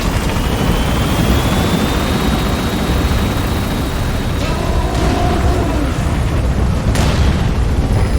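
A helicopter gaining altitude in Metal Gear Solid 5 fills the whole stretch with a loud, steady rotor and engine roar, with a faint rising whine underneath.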